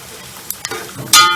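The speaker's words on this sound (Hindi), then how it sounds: "सबसे पहले हम अपने गोंद को है वो फ्राई करना है हमने, और इसको उस वक्त तक फ्राई करना है जब तक ये खिल ना जाए" Edible gum (gond) frying in ghee for panjeeri, a soft sizzle with a few light stirring clicks and a brief louder burst near the end.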